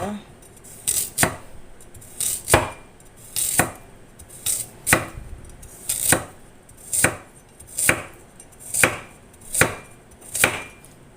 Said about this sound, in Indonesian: Lalu kemudian iris seperti ini saja wortelnya.